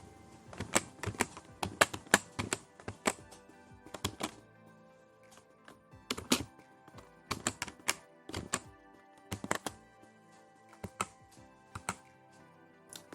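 Keys clatter on a computer keyboard in irregular bursts of close, crisp clicks with short pauses between, as a student name is typed into an Excel spreadsheet; no talking.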